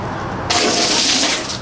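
Water pours steadily off a tent roof during a rainy campsite setup, a loud continuous splashing gush that starts suddenly and keeps running alone.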